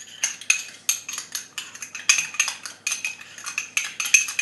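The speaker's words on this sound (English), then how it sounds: "And then give it a little stir." A spoon stirs a little garlic into mayonnaise in a bowl, making a quick, rhythmic run of bright metallic clinks and scrapes, close and fairly loud, with no talking.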